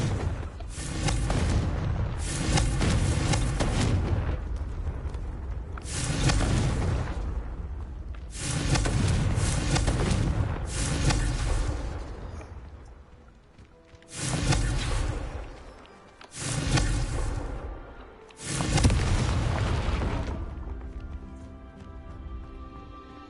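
Confringo spell blasts from the Hogwarts Legacy video game: a run of loud, booming explosive bursts, about six heavy rumbling blasts separated by brief pauses, each swelling and fading.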